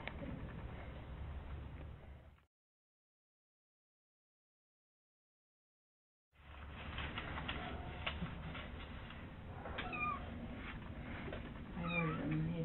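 Small kittens meowing close by in a home, repeated thin cries in two stretches separated by a few seconds of silence, with soft background noise.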